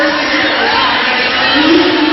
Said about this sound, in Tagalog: full jam-packed crowd here at the arena